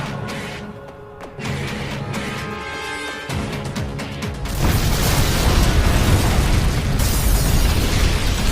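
A bomb explosion erupts with a heavy, loud boom partway through, then a broad, sustained roar and rumble follow, coming after a quieter stretch of mechanical clatter.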